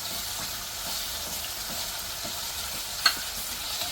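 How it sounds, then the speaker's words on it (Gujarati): Red secret masala spice mix frying in very hot oil for garlicky potatoes, a steady bright sizzle with soft stirring scrapes and one sharp utensil tick near the end, no voices. "મસાલો બ્રાઉન થવા લાગી જ ગયો છે કેમ કે આપણો સિક્રેટ મસાલો હતો લાલ અને તેલ ખાસું એવું ગરમ હતું"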